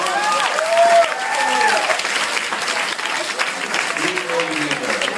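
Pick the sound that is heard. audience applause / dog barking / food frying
audience applause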